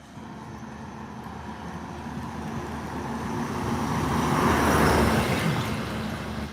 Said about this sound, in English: Sorry, this car coming.